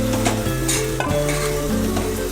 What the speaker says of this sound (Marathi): त्याच्यामध्ये भेंडी टाकून घेऊ आपण.